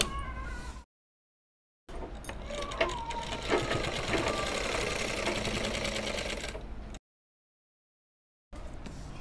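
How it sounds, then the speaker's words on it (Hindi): A sewing machine stitching a straight line of embroidery on a poncha or mohri design runs in a close, steady, rapid whir. It starts with a brief burst, then sews continuously for several seconds, broken by short silent gaps. "अब सिलाई हमें इस लाइन पे लगानी है, यहाँ तक।"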